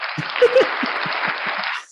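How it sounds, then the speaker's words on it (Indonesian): A small group gives brief applause at the end of a conversation. The clapping is thin and scattered, with a few distinct claps, and lasts about two seconds before it stops. "beri tepuk tangan buat kita"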